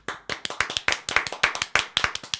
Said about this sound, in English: Can we just have a moment of applause for her bravery?